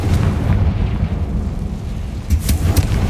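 A Confringo blasting curse explodes in a Harry Potter video game, a loud, rumbling blast with a deep booming body that fades and then swells again with a second burst near the end.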